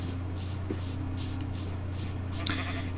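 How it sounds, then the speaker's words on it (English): Sheep bleating in the video game Minecraft, a series of repeated nasal bleats over a constant hum of game background sound, fairly near and moderately loud. "even more sheep."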